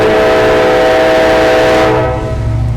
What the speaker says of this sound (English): Fuck this train.